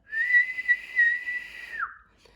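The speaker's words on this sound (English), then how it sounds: "they snuck onto a train that was getting ready to leave the Banff station. With a loud whistle," A train whistle sounds as the train pulls out of Banff station in the Rocky Mountains: one sustained, bright, fairly loud tone lasting about two seconds, then dropping in pitch as it ends, followed by quiet.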